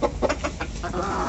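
Leghorn hens cluck close by in a short burst of choppy, repeated clucks, loud and clear with no talking.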